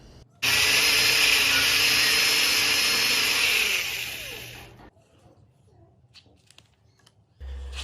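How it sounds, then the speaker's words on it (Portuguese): A power drill bores holes for the gear levers in a handmade miniature tractor model. A loud, steady, high whine runs for about four seconds, then eases off. It is followed by quiet handling clicks and a brief low hum at the end. "Agora o próximo passo nós vamos furar para colocar as alavancas de marcha"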